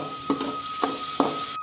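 Tomatoes with turmeric cooking in a pan give off a steady, quiet sizzle, with three soft stirring scrapes spaced evenly through it.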